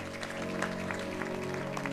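A church congregation applauding the Lord, a steady wash of many hands clapping at moderate distance over a sustained low hum, with faint voices mixed in.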